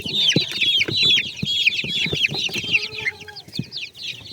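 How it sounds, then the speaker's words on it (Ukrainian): A flock of chickens clucks and peeps constantly nearby, high chirping calls overlapping with lower clucks in a busy, continuous chatter. "мої курята"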